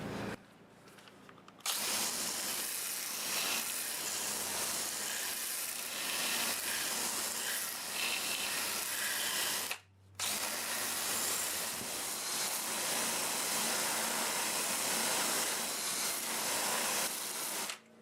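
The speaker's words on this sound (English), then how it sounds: "I'm going to go over it with the Sandiflex" Sandiflex abrasive rubbed against a spinning English walnut root ball on a lathe, a loud continuous hissing scour that runs steadily, breaks off briefly partway through, then resumes at the same strength.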